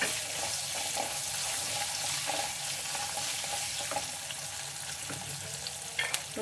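Chopped onion fries in a pan with asafoetida for a drumstick leaf chutney, producing a steady, soft sizzling hiss with faint stirring clicks, close and continuous with no voices.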